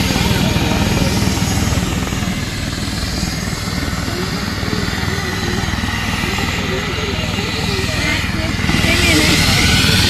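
Helicopter landing at a heavily guarded arrival in Virar, India, its loud, steady rotor thrum and engine roar running throughout, with crowd voices and talk mixed in over it.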